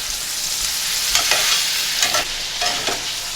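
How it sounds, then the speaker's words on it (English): Pork chops sear in butter in a hot pan, giving a steady close sizzle with a few brief louder crackles and spatters throughout. "Probably should have had a hotter pan, but a fairly good sear on them anyway"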